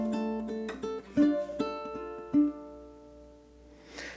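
A ukulele plays the opening measure of Hanukkah, Oh Hanukkah as a run of steady eighth notes, clear and close, each pluck ringing briefly before the phrase fades out.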